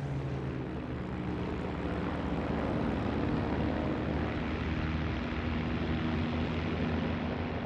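A Supermarine Spitfire 14 fighter's 2,000-horsepower Griffon piston engine drones steadily and evenly, a continuous low propeller roar held for several seconds with no voices.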